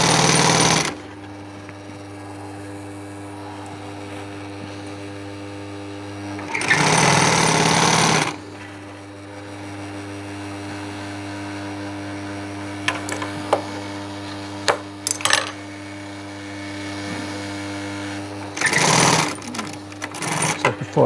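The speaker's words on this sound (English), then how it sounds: "I'm just going to sew this onto the border." Brief loud bursts of a sewing machine stitch a sofa back cushion onto its border, separated by a steady low workshop hum and a few small clicks.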